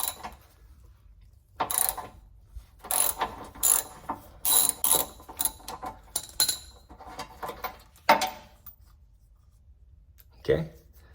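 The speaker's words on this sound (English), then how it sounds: "But step one is to remove that bolt. So grab your socket, grab your extensions." Socket ratchet with extensions working a bolt loose from the transmission mount of a 2007-2014 Chevy Tahoe, heard as bursts of close, rapid clicking with pauses between strokes and a final sharp clank.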